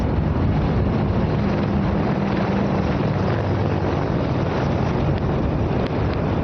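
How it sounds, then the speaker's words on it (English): Three Apache military helicopters flying in formation overhead at a flypast near India Gate, heard as a steady, loud rotor and engine roar mixed with heavy wind noise. "India gate के ठीक पास पहुंचते हुए अजय फॉर्मेशन में 3 अपाचे हेलीकॉप्टर"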